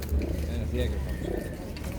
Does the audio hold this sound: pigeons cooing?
yes